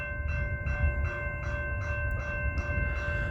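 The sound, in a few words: freight train passing at night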